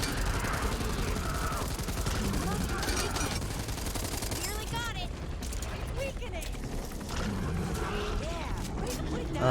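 Rapid automatic gunfire rattles continuously while shooting an ogre in Back 4 Blood, steady mechanical clatter layered with creaks and game noise, with brief voices underneath.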